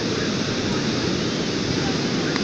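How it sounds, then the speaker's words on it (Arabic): Sea waves wash steadily as a broad, continuous roar of surf, loud and even throughout, with no distinct breaks between swells. "امواج صوت البحر، رائع"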